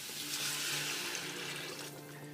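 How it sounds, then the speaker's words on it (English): Tap water runs into a soup pot for Zuppa Toscana, a steady, even rush with no break and no voices. "now we're going to put in 8 cups of water"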